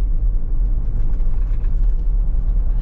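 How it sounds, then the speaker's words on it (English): Ford Bronco Raptor engine running with a faulty transmission shifting oddly, heard from inside as a steady deep rumble and whir that stays loud and even throughout, with no voices. "Yeah, it's still doing the weird shifting."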